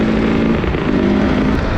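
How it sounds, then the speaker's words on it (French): A 250 enduro motorcycle engine revs steadily while riding, a loud, close, continuous buzzing drone with slight pitch shifts throughout and no talk. "Ouais, c'est une moto qui fonctionne plutôt bien,"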